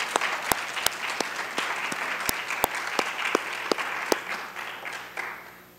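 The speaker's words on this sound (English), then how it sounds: "Give her a round of applause." Audience applause in a lecture hall at an Edible Education food talk, a steady wash of many hands with sharper individual claps standing out, fading toward the end.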